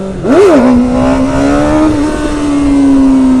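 A motorcycle in first gear revs sharply once, then holds a loud, steady high engine whine with the clutch worked, sustained close-up and alone.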